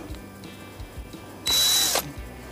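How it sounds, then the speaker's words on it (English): A power drill whirs loudly for about half a second in a single burst, high-pitched and steady, with quiet clicks and handling noise before and after, while working on a 3hp Evinrude outboard motor's water pump. "drill motor."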